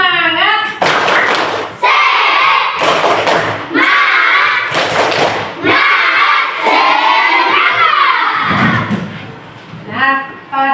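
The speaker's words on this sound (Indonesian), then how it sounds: "Kita tepuk semangat dulu sebentar." A primary school class performs a rhythmic spirit clap, loud bursts of unison clapping and thumping alternating with children's shouted chanting in a patterned call-and-response, close and energetic.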